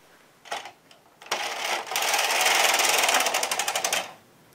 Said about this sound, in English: I'm going to knit 22 rows to make a long cuff.